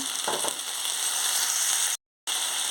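Potatoes hitting a pan of frying brinjal curry set off a loud, steady, close sizzle with a brief stirring scrape near the start and a short cut-out gap near the end.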